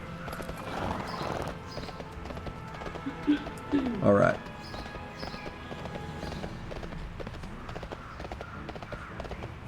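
A horse mount's hooves clip-clop steadily in World of Warcraft game footage, with a brief whinny-like burst midway and someone speaking briefly over the game sounds.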